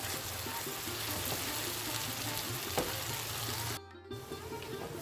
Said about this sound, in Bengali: ভালো করে কষিয়ে নিতে হবে মশলাটাকে এই একই সাথে আমি অ্যাড করে দেবো টমেটো বাটাটা